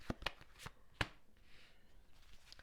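Tarot cards being shuffled close up, with a quick run of crisp riffling snaps and soft slides, quiet and without talk.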